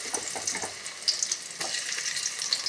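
Grated raw mango dropped into hot oil with mustard seeds, crackling and sizzling steadily at close range with sharp popping bursts throughout.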